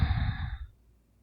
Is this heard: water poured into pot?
no